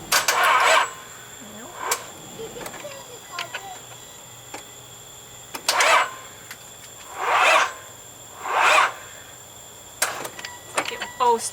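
A Nissan Pathfinder, about twenty years old, cranks repeatedly as it tries to start, several long grinding bursts of a second or so separated by pauses, with scattered clicks and handling noises between attempts.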